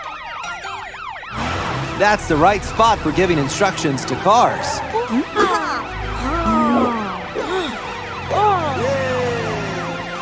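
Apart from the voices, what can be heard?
police siren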